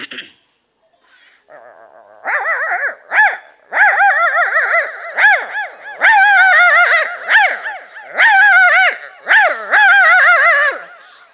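A mimicry artist voices a stray dog, producing loud, close howling whines and yelping barks in quick bursts after a brief quiet start, all made by a human voice in a mock-art stage performance.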